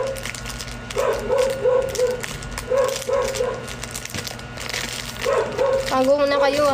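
A small dog yips and barks in short repeated bursts at mid distance, under a steady background of a voice talking, with a quicker run of high yaps near the end.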